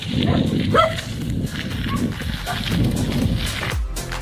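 Dogs bark at a passing cyclist on a bike ride, with several close barks over steady wind and road noise, and a voice speaking over part of it.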